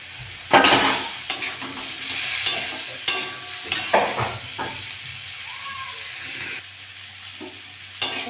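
Vegetable stems for a Bengali shukto with bitter gourd, potato and pumpkin are stirred and fried in a pan, a steady sizzle broken by repeated sharp scraping strokes of the spatula, close and clear with no speech.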